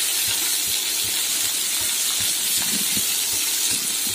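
Onions sautéing with a little salt in a pan for a tomato kuzhambu give off a steady, loud, broadband sizzle and hiss, with faint scattered low taps throughout and no talking.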